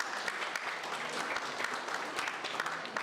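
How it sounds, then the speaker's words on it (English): Audience applause, a steady wash of clapping hands from a crowd, moderately loud and continuous for a few seconds. "A round of applause for Dr. Khwaja"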